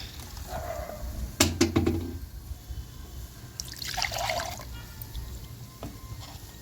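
Water trickles and pours into a pot of simmering upsaru made with drumstick leaves and green chilli, a short splashing fill in the middle of a quiet kitchen, with faint clinks before it.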